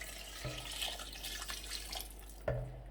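Yakhni stock is poured into Kabuli pulao with a soft, quiet liquid trickle and a few faint splashes close by.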